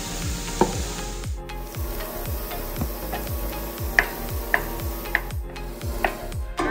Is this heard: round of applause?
no